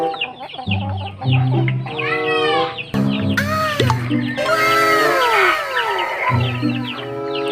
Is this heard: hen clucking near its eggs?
yes